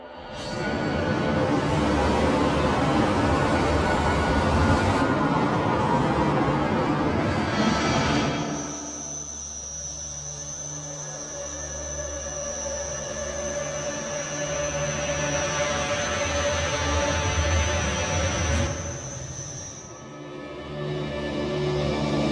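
Horns, stingers and drones from the 8Dio Hybrid Tools library played in reverse: dense swelling noisy textures give way to a sustained droning hum with a high whining tone, building and fading, loud and without speech.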